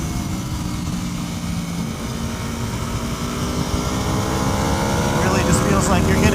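An Aprilia RSV4 race bike's engine revving on a track, rising steadily in pitch and volume over several seconds into a loud, high-revving howl, with no voices.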